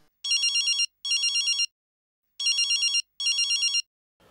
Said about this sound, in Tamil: பாலாஜி தான்டா ஃபோன் பண்றான் அட்டன் பண்ணுங்க